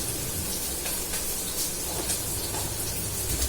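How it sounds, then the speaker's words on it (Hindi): Onions frying in a pan with carom seeds and asafoetida give off a steady, soft sizzling hiss, continuous and fairly quiet, heard alone. "अजवाइन हींग डाल के प्याज भून रही हूँ"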